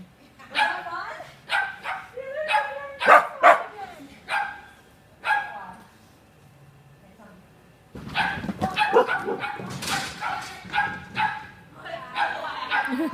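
Several dogs bark and yip in short, loud bursts during a training demonstration, with a quieter gap in the middle before busier overlapping barking resumes, and a person talks among them.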